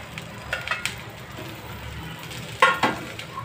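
Chopped okra sautéing in a pan for a quick Indian dry vegetable dish gives a faint sizzle with light scraping stir clicks, a few louder clatters near the end, with no talk.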